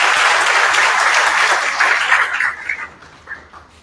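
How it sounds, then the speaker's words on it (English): Applause from summit attendees at an agri-food investment event in Sierra Leone, a broad wash of clapping that holds steady, then thins and fades into scattered claps near the end. "Please, a round of applause,"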